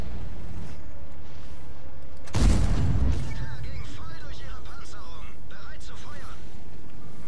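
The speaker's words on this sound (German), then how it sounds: "warte, ich schieß noch drauf" A single heavy tank cannon shot in World of Tanks during a Prokhorovka battle: one loud, booming blast with a rumbling tail, heard under ongoing talk among the players.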